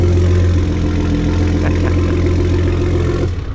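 A 2023 Ford F-150 Raptor with an EcoBoost V6, started remotely, idles with a close, steady, throaty exhaust burble that holds evenly before the engine shuts off near the end.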